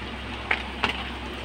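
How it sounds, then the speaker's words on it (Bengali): Turmeric and chili powder frying in a pan for mustard fish with cashews gives a steady sizzle, broken by two brief stir or scrape accents. "এবার সবগুলো একসাথে ভেজে নেব।"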